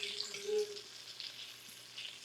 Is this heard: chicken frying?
yes